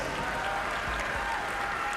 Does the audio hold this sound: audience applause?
yes